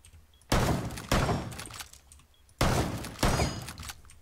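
Gunfire in Rainbow Six Siege on the Coastline map, four loud, close bursts of shots in two pairs, each sharp onset trailing off with a ringing decay, separated by brief quiet gaps.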